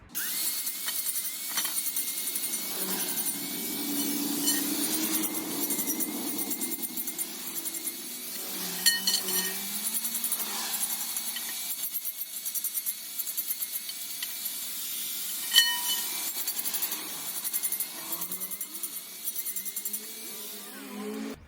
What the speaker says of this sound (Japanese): 端っこ溶接する部分だけ塗料を剥がしていきたいと思います